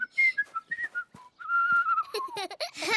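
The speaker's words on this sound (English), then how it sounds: "You three make some interesting whistly noises with your juice boxes." Children in a cartoon make whistly noises by blowing through juice boxes, a string of short, wavering high tones followed by a longer sliding whistle and a sputtery burst, near and fairly soft.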